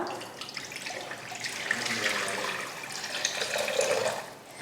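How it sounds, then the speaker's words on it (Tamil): Coconut water pours steadily into a pan, a continuous splashing trickle that swells slightly toward the end, close by with no talking. "இதில் நம்ம கலந்து வச்ச இளநீ தண்ணியை சேர்த்துடலாம்."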